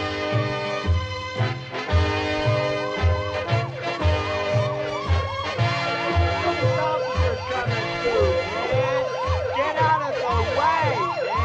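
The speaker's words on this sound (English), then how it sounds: "Can't you hear the siren" A police car siren wails in repeated rising and falling sweeps, loud and close, over a steady pulsing low rhythm.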